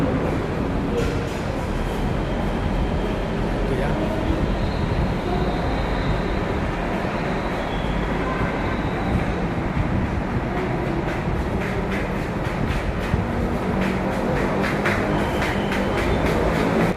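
An MRT train runs through Lebak Bulus subway station in Jakarta, a loud continuous rumble with rattling wheel clicks toward the end, steady and close, with faint voices in the background.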